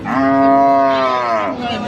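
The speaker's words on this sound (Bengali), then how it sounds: "এই হাটের মনে হয় আজকে সবচেয়ে সুন্দর একটা গরু এটা" A cow at a weekly cattle market gives one long, loud, close moo with a rich harmonic tone, lasting nearly two seconds before trailing off, with no talk over it.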